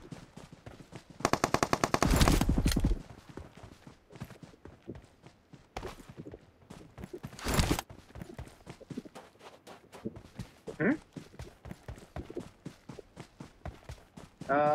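Tommy gun fire in a multiplayer shooter game: a long, rapid automatic burst followed by shorter bursts and single shots, with footsteps and movement between them.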